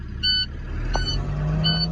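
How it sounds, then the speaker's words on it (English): A truck engine running and being revved with the gas pedal to build air pressure to 120 psi, a steady close motor hum with a short rise, overlaid by three evenly spaced electronic beeps. "now I'm gonna turn my truck on again to build the pressure to 120 psi"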